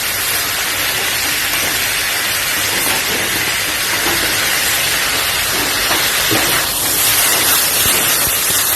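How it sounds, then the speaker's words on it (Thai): Loud, steady sizzling and hissing of salted fish frying in hot oil in a wok, a constant crackling spray that runs unbroken throughout. "แล้วเราก็ใส่ปลาเค็มลงไปเลยนะคะ"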